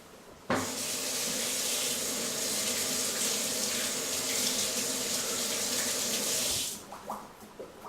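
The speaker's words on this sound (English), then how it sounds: "Now I'll wash my hands." Running tap water pours steadily into a sink as hands are washed, a loud continuous gush lasting several seconds before the tap shuts off, followed by a few faint clatters and no talking.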